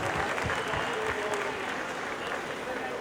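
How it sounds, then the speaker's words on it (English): An audience at a fashion show claps in a loud, steady round of applause welcoming a participant, a thick continuous patter of hands with a voice talking faintly underneath. "Please welcome her with a big round of applause."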